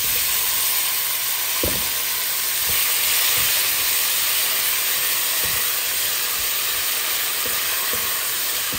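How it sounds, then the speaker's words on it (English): Diced tomato added to a pan of olive oil with basil leaves, sizzling steadily and loudly, a continuous close frying hiss with a few faint clinks. "Now I'm adding diced tomato."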